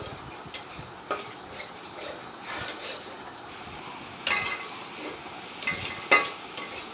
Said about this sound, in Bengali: মশলাটা সুন্দর করে ভেজে নিচ্ছি, যাতে মশলার কাঁচা গন্ধটা না থাকে।